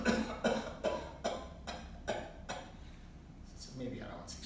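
A child's cough episode, a run of six or seven evenly spaced coughs roughly half a second apart at close range, quiet, followed by fainter scattered sounds.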